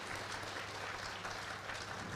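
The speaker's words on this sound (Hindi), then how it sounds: "इस पर तो तालियां बजाइए, जोर से बजाइए" Continuous crowd clapping, a dense even patter of many hands, heard at a distance and fairly faint, at a state-level AYUSH health fair in Rajasthan.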